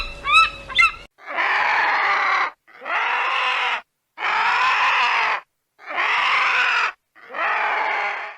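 Vulture screaming in five long, harsh, evenly spaced squawks, loud and near, preceded by a brief chirping call, with no talk.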